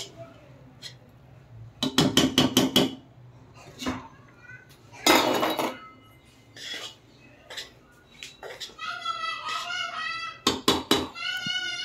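Potato biryani being stirred in a pot, with bursts of clattering metal spoon scrapes against the vessel between quieter gaps, and a cat's meows rising near the end.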